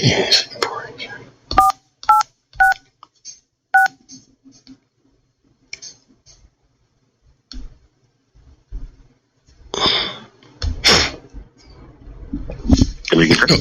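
A telephone keypad sounds a quick run of dialing tones. Short separate beeps come early, with soft talk and whispering around them, and later the voices pick up again.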